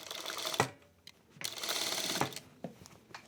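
A sewing machine stitches a hoodie seam through fabric layers, heard up close as short mechanical bursts of stitching separated by brief pauses, with no talking.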